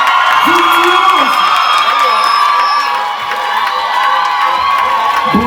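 A concert crowd in Liège roars and cheers for the performer, a dense, sustained wall of shouts and whoops that stays loud and close throughout, with voices calling out over it.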